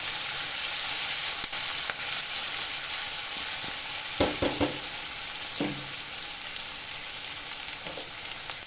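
Onion frying in a pan with salt for a fish-roe and potato dish, a constant loud sizzle with a few clustered scraping and tapping stirs midway.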